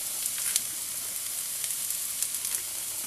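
Ground beef with onion and garlic frying in olive oil, 500 g of mince making a steady, close hiss with small pops and crackles running through it, with no voices.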